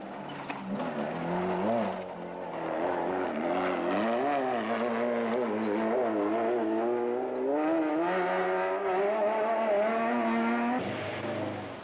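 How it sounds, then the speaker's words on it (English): Castrol Toyota Hilux rally vehicles racing in the Sun City 400 desert rally in 2006, a loud engine drone rising and falling in pitch as it revs and shifts gears close by, continuous for the whole stretch. "For Berthold and Houghton in the Castrol Toyota Hilux, there was more improvement"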